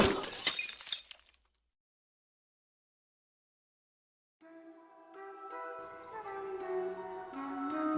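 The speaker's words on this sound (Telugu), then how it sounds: "గాలి స్పీడ్గా పెరిగి ప్రెషర్ డిఫరెన్స్ వల్ల గ్లాస్ పగిలింది." Window glass shatters in a Telugu short film: one sharp crash at the start, then several seconds of silence before music comes in.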